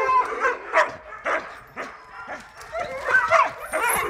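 Sled dogs in training bark, yip and whimper in a loose series of close, sharp calls, with a few soft whines between them and no talk.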